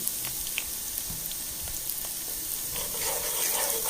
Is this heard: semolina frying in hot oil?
yes